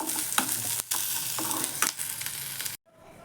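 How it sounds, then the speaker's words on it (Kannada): Onions frying in oil sizzle steadily up close, broken by a few bursts of stirring scrapes, before the sound cuts to near quiet at the end. "ಸ್ವಲ್ಪ ಎಣ್ಣೆ ಹಾಕಿ ಈರುಳ್ಳಿ ಚೆನ್ನಾಗಿ ಬಾಡಿಸ್ಕೊಬೇಕು"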